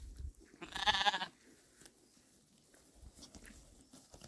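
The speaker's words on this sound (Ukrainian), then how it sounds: "Бачите, що вівці ровно не ходять." A single loud sheep bleat rings out close by, followed by quiet chewing and soft shuffling sounds from the flock.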